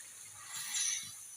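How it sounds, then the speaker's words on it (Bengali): Shoal fish in fried spice paste is stirred in a pan, giving a soft, steady sizzle with faint scraping for a brief moment. "এবার আমি আবার মাছটা দিয়ে নেড়ে নিচ্ছি"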